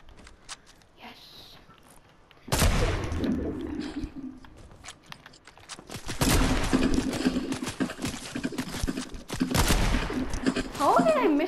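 Sniper rifle gunshots in the Fortnite video game during zone wars, a few loud sharp blasts with rumbling tails among game effects, while players talk over the action.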